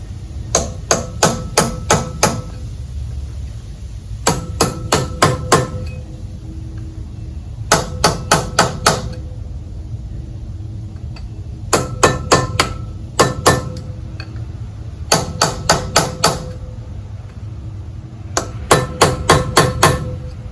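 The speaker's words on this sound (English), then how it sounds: "tap on the top, tap on the bottom, try to free it up." A hammer taps a seized 1954 Gale Buccaneer 5 HP outboard powerhead in repeated groups of sharp metallic knocks, about four to six quick strikes per burst with pauses between, close and clear.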